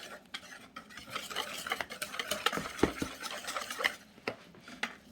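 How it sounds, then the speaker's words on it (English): Batter seasoned with yellow curry and garlic powder being whisked in a bowl for tempura chicken, a quick run of light, rapid scraping and tapping strokes close by, with no talking. "Let's give it a quick whisk."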